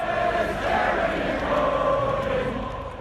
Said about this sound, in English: As the crowd amassed on Parliament Square